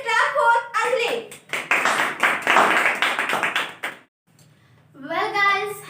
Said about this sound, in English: Guys, please clap for Anjali.